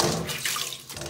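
Water runs from a tap while a scarf is hand-washed, a short close splashing rush with uneven gurgles as the fabric is handled under the stream.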